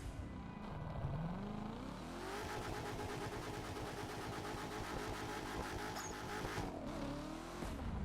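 A Corvette ZR1 in The Crew 2 racing game revs hard, its engine pitch sweeping up, holding a buzzing high drone, then dropping and rising again. The engine is loud and close, with no talk over it.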